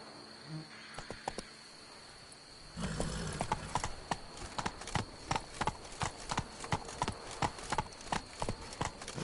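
Geralt's horse Roach trotting in The Witcher 3, steady clip-clop hoofbeats growing louder after a quiet start, with crickets and faint wild ambience behind.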